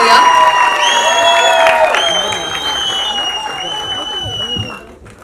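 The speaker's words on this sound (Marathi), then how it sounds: "एकदा जोरदार टाळ्या दो" Sustained applause from an audience at a Marathi film trailer launch, steady and dense with scattered cheers, fading out near the end.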